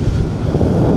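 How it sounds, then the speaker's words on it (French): Steady roaring wind buffets the microphone while flying a paramotor during a target-landing precision approach, a continuous dense low rumble with no voices. "Là je dépasse un peu la cible, c'est pas grave, il y a du vent."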